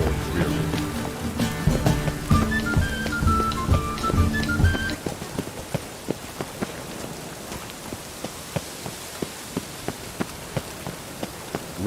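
Steady rain falls on a dreary city in The Witcher 3, pattering drops under music that fades out partway, leaving scattered close drips against the soft downpour.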